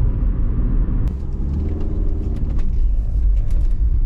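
A Rover 25 1.4 driven on the road, heard from inside the cabin as a steady low engine and road rumble with light knocks and creaks over the top.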